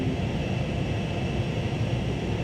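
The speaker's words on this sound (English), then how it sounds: "Plane on a gentle turn." AV-8B Harrier II jet in a flight simulator, banking through a gentle turn: a steady, loud engine roar and rumble holds evenly throughout with no voices.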